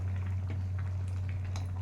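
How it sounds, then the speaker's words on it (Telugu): Soft, steady bubbling of a mixture boiling in a pot, with small pops over a low hum. "చూసారా ఎలా ఉడుకుతుంది ఉడికేటప్పుడు"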